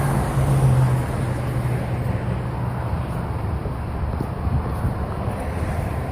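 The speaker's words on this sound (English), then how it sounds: "hear some cars coming down" Steady broadband roar of cars on a road near the Pennsylvania Turnpike, heard continuously with heavy wind buffeting on the microphone and no talking.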